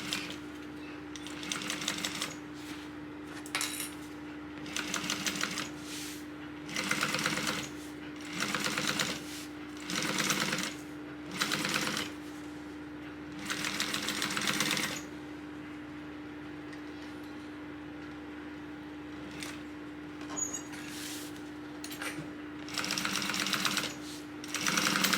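A sewing machine stitches a Kensley tote bag in a series of short, even bursts separated by brief pauses, close by and moderately loud over a faint steady hum.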